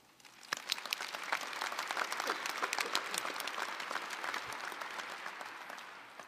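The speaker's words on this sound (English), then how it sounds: "for that, they deserve a round of applause" A graduation celebration audience applauds in a dense, sustained wash of clapping that swells after a quiet start and stays steady, heard from a moderate distance with no talk.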